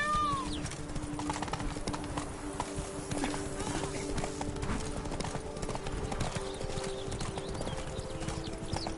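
Horse hooves clip-clopping at a steady trot in The Witcher 3 video game, a dense rhythmic beat under game ambience and music, with a voice speaking over it.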